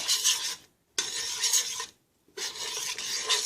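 Spoon scraping through vegetable pot pie filling seasoned with spices, three steady rasping stir strokes with brief pauses between them, close and fairly quiet, with no voices.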